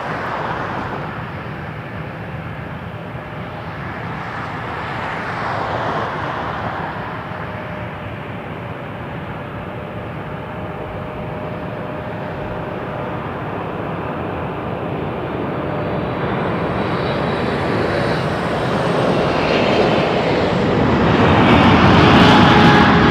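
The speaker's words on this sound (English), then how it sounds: "777-300 Eva Air. Coming in from Taipei." A Boeing 777-300 arriving at Toronto Pearson, a steady broadband jet roar that builds slowly and grows louder toward the end, with a faint whine running through it and no voices.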